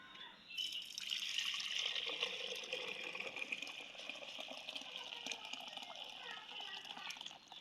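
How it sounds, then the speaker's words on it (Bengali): Sweet yogurt mixture is poured into a clay pot in a home kitchen, giving a faint, steady liquid trickle and splash that runs continuously for several seconds. "এখন হাঁড়িতে ঢেলে দিচ্ছি"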